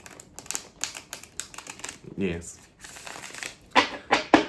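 A deck of tarot cards being shuffled by hand, with crisp riffling and flicking bursts up close, some louder near the end, and a voice speaking briefly.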